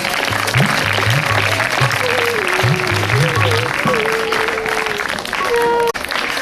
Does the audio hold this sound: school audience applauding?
yes